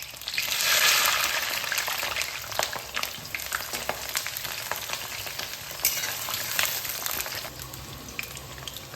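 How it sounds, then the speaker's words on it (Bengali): Eggplant pieces frying in hot oil with turmeric and salt, a continuous crackling sizzle heard close up with sporadic sharper pops and stirring, and no voices. "হাফ চামচ হলুদ আর হাফ চামচ লবণ দিয়ে বেগুনটা ভেজে নিচ্ছি।"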